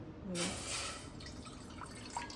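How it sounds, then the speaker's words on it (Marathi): Water pours into a thick-bottomed pot in one short splashing stream that tapers into a few faint drips, heard close and fairly quiet. "तर सर्वप्रथम आपण दीड वाटी पाणी घेऊ"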